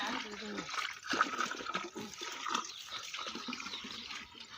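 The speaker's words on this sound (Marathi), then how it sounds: "तर नळाला पाणी आलं इथं" Tap water runs in a hillside village, a low continuous splashing trickle with faint voices in the background.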